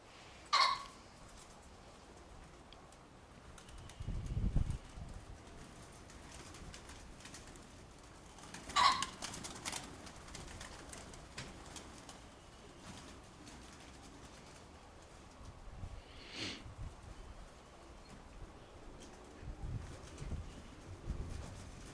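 Faint cooing of Mykolaiv pigeons in a quiet outdoor space, a few soft coos spaced out with low rustling and thumps in between.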